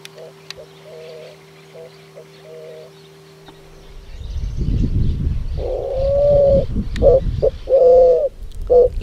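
Grey-fronted dove (yerutí gris) calling outdoors in Esperanza, Santa Fe, Argentina, with a few soft coos standing out near the end over louder rustling background noise.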